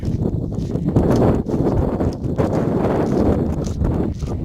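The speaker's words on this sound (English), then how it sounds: "It's very windy here today." Gusty wind roars across the microphone with a continuous low rumble, loud and close, with faint rustling underneath.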